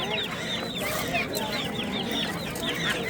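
Roosters and hens cluck and squawk densely at a bustling poultry market, a close, continuous clamor with faint voices mixed in.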